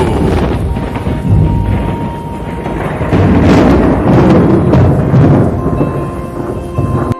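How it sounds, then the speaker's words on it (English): Heavy thunder rolls and rumbles loudly and continuously over a rooftop in North Las Vegas during a lightning storm, with rain hissing underneath. "Got a nice thunder boomer working right now."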